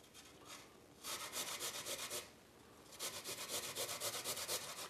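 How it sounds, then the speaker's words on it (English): A root is grated, skin and all, on the fine side of a cheese grater in two bursts of quick rhythmic rasping strokes separated by a short pause, close but quiet, with no speech. "I'm just gonna get the grater. I'm gonna grate it up."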